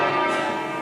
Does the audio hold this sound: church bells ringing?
yes